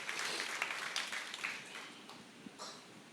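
A church congregation at a sermon applauds, a quiet, distant patter of clapping that fades over a few seconds.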